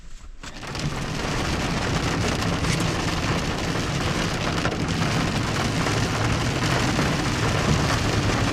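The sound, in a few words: heavy rain downpour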